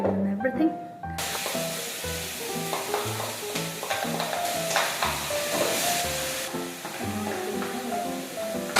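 Oil heating in a pan, ready for chopped onion and garlic, gives a continuous loud sizzle and hiss with clattering, scraping stirring strokes throughout.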